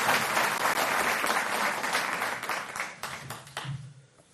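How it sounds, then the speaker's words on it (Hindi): A crowd at a political event applauding loudly for Delhi Chief Minister Arvind Kejriwal, the clapping gradually thinning and fading away toward the end. "तालियों से"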